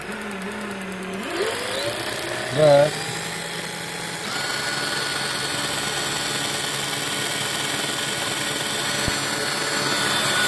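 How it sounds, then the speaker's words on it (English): A small Craftsman electric drill spins a Willys F134 engine distributor, whirring steadily, spinning up and then running at a constant high-pitched whine for several seconds, with a brief word spoken early on. "we'll just spin it with my little Craftsman drill"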